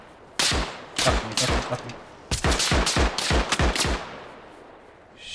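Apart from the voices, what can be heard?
gunfire from Arma Reforger video game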